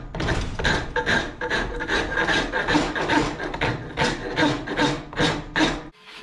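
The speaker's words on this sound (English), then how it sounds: "I need to go ahead and rasp this bottom area a little bit. Just using a nice rasp." A rasp files the bottom of a wooden shovel handle, giving rhythmic coarse scraping strokes, close and loud, about two per second, with no talking.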